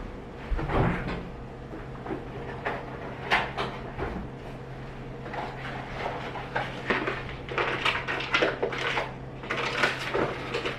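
Kitchen handling noises: a refrigerator door thuds open and shut among clinks and rattles of items being moved, fairly close, with no talking.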